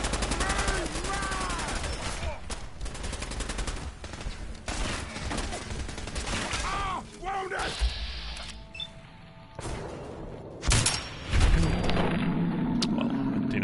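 Dense gunfire from a Fallout 4 battle: bursts of rapid shots and heavy cracks fill the mix, with occasional louder booms and brief lulls, mostly without talk.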